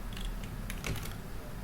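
Quick taps on a Danish computer keyboard, a short burst of light clicks, close and fairly faint, with no voices.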